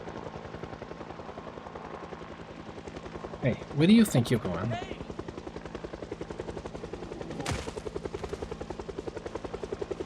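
A helicopter event in a zombie survival video game, a steady rapid rotor chop throughout, close and loud, with someone talking briefly over it partway through.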